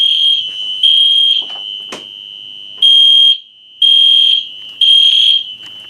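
UMMT outdoor warning siren sounding during a system test, a loud, steady high-pitched electronic tone close by that swells in repeated pulses with brief drops, with no talking.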